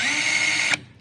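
A cordless electric drill whirs steadily in reverse, a close, continuous motor hum that cuts off abruptly near the end.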